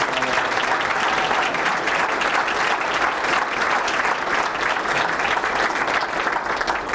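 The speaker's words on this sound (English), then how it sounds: "So we could have a round of applause." At a JROTC superintendent's breakfast, the audience gives a full round of applause, steady and fairly loud, many hands clapping together without letup for about seven seconds.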